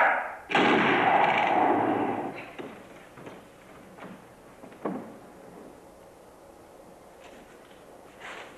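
A firing squad's volley of gunshots in a 1997 revolution-era drama: one loud, sustained burst of combined shots that decays over about two seconds, then scattered fainter thuds and a sharper report, fading to a quiet background.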